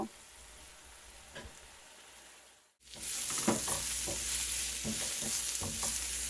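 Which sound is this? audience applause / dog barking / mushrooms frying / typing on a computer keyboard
mushrooms frying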